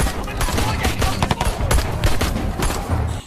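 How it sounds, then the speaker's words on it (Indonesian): Rapid gunfire in a police-versus-gangster shootout from a film, with dense bursts of shots cracking across the whole clip, loud and continuous with brief uneven gaps. "Di sini terjadi baku tembak antara polisi dengan para gangster di sana."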